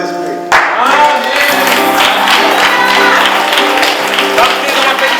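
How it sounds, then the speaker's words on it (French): At a church worship conference, a large audience bursts into loud, dense applause that goes on steadily, with cheers and shouting voices mixed into the clapping. "On va applaudir Père, Fils, Saint-Esprit"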